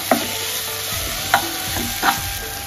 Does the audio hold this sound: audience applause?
no